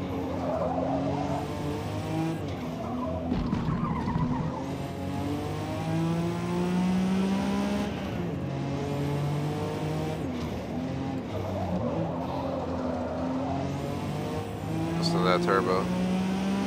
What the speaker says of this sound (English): They're like doing donuts.